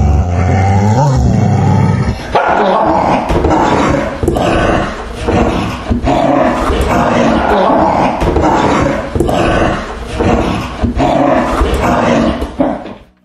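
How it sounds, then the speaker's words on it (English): Up close and loud, an angry dog snarls and barks in a fierce, roaring run of repeated bursts, with a brief deeper growl at the start and a fade at the end. "Angry dog barking and snarling sound."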